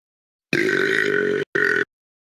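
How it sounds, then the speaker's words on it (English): A person burps on command, one long loud close belch followed after a short break by a second, shorter burp. "Can you give us a good burp on command?"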